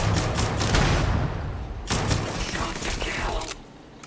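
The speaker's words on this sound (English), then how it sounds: "I just shot a fucking grenade out of the goddamn air." Rapid video-game gunfire in Starfield as a grenade is shot out of the air: a dense burst of shots, a brief lull, then a second burst with a metallic clatter, all loud and close.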